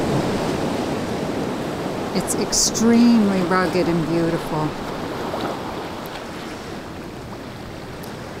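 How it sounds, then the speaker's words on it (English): Ocean surf rushes between rocks on a rugged point, a steady broad roar and wash of water, while a person speaks briefly over it. "See the waves just rushing through the middle of those rocks over there?"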